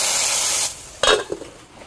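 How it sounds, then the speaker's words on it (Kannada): Hot oil tempering with mustard seeds, asafoetida and garlic gives a loud, close hissing sizzle that cuts off sharply after under a second, followed by a few soft clinks. "ಎಣ್ಣೆ, ಸಾಸಿವೆ, ಇಂಗು ಹಾಗೂ ಬೆಳ್ಳುಳ್ಳಿಯನ್ನು ಹಾಕಿದ್ದೇನೆ."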